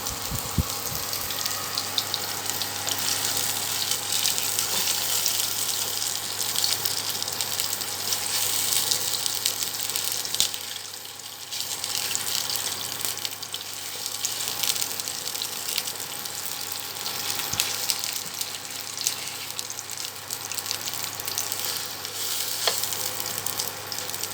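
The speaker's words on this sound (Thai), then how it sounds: "ทอดให้มันเหลืองกรอบค่ะ" Milk sausages sizzle steadily in a hot electric frying pan, a dense continuous crackle with faint bubbling that holds throughout, briefly dipping midway, with no talking.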